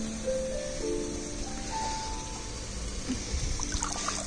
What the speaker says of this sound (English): Full of water, plants all dead, so I'm gonna empty it.